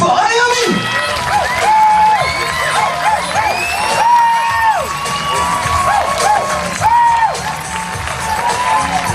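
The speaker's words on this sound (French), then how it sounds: "vous pouvez les applaudir, mais alors beaucoup plus fort" A crowd at an outdoor powwow-themed Western show applauds and cheers loudly, with children shouting and high whoops rising repeatedly over steady clapping throughout.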